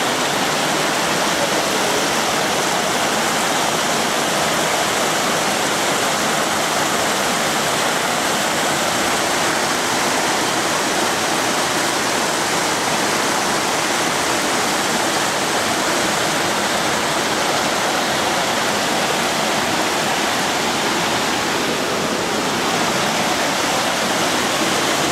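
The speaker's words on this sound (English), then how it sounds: "And watch how the water's rushing by" Water roars steadily over Fall Creek Falls, a loud, unbroken rushing wash heard close with no talking over it.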